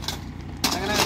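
A tractor engine cranks and catches midway, a sudden rumbling roar replacing the quieter idle hum before it.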